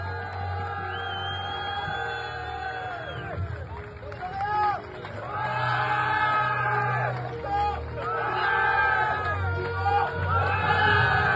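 Spectators at the 2025 French cycling championships in Les Herbiers cheer the new champion, Dorian Godon, in repeated waves of shouting and whooping voices, with crowd babble between bursts.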